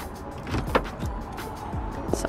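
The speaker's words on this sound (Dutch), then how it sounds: "Zo, auto op slot." A parked car locks with a brief electric motor whir and soft mechanical clunks, close by in a quiet street, followed by another short whirring click near the end.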